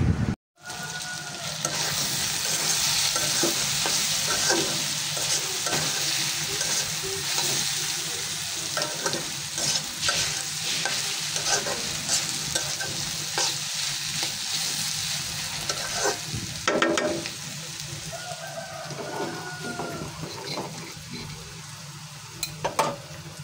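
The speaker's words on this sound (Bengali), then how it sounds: "আমরা নাস্তা খাওয়ার জন্য হচ্ছে এখানে চাপটি পিঠা বানাচ্ছি।" Chapti pitha batter with onion, chilli and turmeric frying in a pan, a steady close sizzle that runs unbroken throughout with occasional scraping and stirring clicks, no talking.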